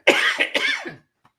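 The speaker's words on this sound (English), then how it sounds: "Y'all gonna say anything so I can cough?" One person lets out a single close, harsh cough in two or three quick pulses, followed by a faint trailing sound and then quiet.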